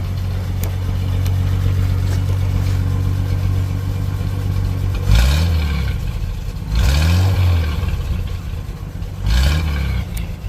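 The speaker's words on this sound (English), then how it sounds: "We'll listen to this monster of an engine, what she sounds like here." The flathead six-cylinder engine of a 1937 Plymouth truck idles with a low steady rumble, then is revved three times in sharp bursts that rise and fall back to idle.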